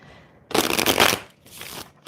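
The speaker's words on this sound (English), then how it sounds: "these cards are a little slippery. They're great to shuffle, but they are slippery." Slippery tarot cards are shuffled in two quick riffling bursts, the first longer and louder, the second shorter, crisp and close with brief quiet between.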